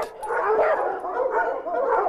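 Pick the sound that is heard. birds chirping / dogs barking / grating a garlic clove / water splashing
dogs barking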